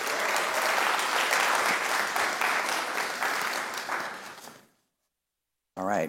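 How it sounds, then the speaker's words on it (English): An audience gives a round of applause, dense and steady clapping that swells then tapers off into silence, followed by a voice starting to speak. "let's please thank them one more time with a round of applause"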